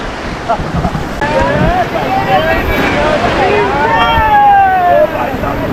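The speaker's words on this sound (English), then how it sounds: "rapids crashing, water splashing, and the raft bouncing through every wave" River rapids rush and splash around a raft on the Ganges, a loud churning roar with wind buffeting the microphone, while voices shout and call out over the water.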